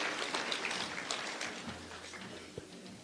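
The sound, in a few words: audience applause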